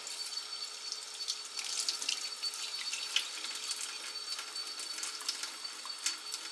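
Tap water runs steadily into a kitchen sink while beans are rinsed, a faint continuous hiss and splash with small irregular spatters, heard alone.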